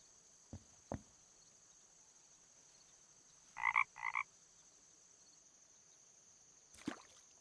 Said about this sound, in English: Is that a frog I hear? A frog.